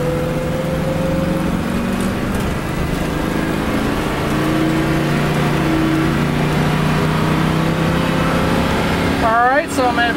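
A 2004 Winnebago Brave motorhome with a Workhorse Chevy chassis accelerates at full throttle onto an interstate on-ramp, its engine droning loud and steady with rising harmonics throughout, a brief rattle near the end.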